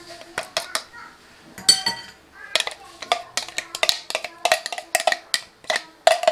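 A spoon clinks and scrapes against a bowl while chili paste is transferred into it, producing a series of sharp close metallic and ceramic taps at an irregular pace with no talking.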